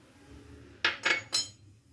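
A spoon clinks three times in quick succession against a bowl while spices are mixed into minced meat for dhaga kebab. The clinks sound close and crisp over a quiet kitchen background.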